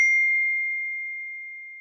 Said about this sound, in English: My phone is at it again.